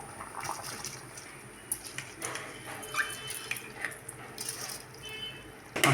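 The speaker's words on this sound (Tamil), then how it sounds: "இப்போ அரிசி வந்து போட்டுட்டேன்." Rice tipped into boiling salted water in a cooker pot while making chicken biryani, a soft scattered pattering and splashing with faint bubbling throughout, ending in a brief louder clatter.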